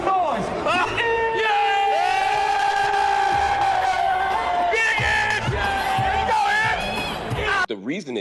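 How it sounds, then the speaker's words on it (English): A large New York event audience cheers, screams and whoops continuously at full volume for most of the stretch, with shouted calls over the roar, before it cuts off abruptly near the end. "I need y'all to make some noise."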